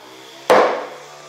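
A single loud, sharp hammer blow against kitchen cabinets hung from the ceiling during demolition, striking close up with a hard woody crack that decays quickly into ringing.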